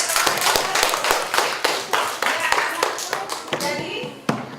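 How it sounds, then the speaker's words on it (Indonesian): A primary school class applauds during an open lesson, many small hands clapping quickly and unevenly for a few seconds, close and loud, tapering off at the end. "beri aplaus buat"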